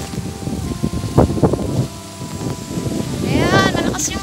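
Strong wind blows outdoors near a white building, a steady gusty roar and rumble buffeting the microphone throughout while a person talks.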